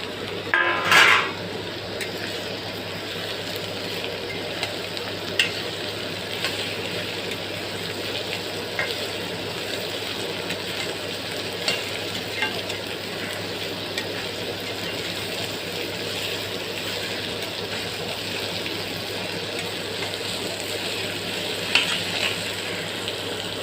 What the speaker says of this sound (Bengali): দেখো সয়াবিনটা ভাজা ভাজা হয়ে গেছে